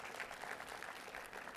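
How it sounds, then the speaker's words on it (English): Crowd at a talk on XR and the metaverse for training giving a round of applause, continuous soft clapping from many hands, faint and even, with no one speaking. "Another round of applause."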